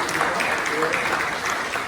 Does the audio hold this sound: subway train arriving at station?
no